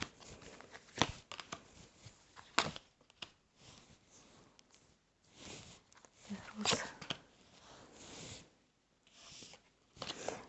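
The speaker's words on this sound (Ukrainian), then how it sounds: "розкладаю карти, а тут же ж ну, це таро вампірів" Tarot cards are shuffled and laid down with papery flicks and soft slaps, coming in irregular bursts separated by short quiet gaps.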